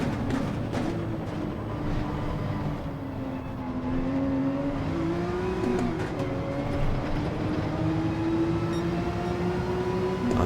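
Porsche 911 RSR race car engine in Gran Turismo 7, a steady sustained drone with shifting pitch as the car holds speed, continuous and fairly loud throughout with no voices.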